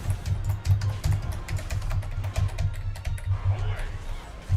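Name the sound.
loud typing on laptop keyboard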